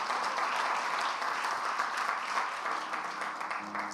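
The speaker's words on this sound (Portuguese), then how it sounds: "Você pode aplaudir?" Congregation applauding during a Sunday church celebration service, a steady wash of clapping from many hands that holds constant for several seconds, fairly distant and reverberant, with no talk over it.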